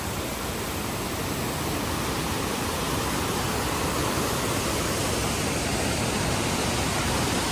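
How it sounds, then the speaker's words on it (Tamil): Water pours down a waterfall in a steady, dense roar that fills the whole clip, loud and close, with no voices. "தண்ணி போகிறது அப்படியே"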